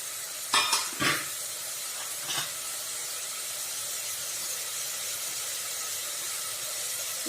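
Ingredients for a turmeric gojju fry in a pan over a low flame, giving a steady close hiss, with a few quick scraping stirs early on and one more a little later. No one speaks.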